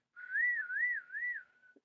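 A person whistles a single wavering tone that rises and falls in three smooth swells, clear and close, demonstrated during an introduction to the euphonium and tuba, ending in silence with no talking.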